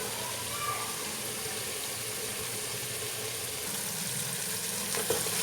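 Goat trotters fry in a pot with a steady, even sizzle and crackle that stays at the same level throughout, close by and alone.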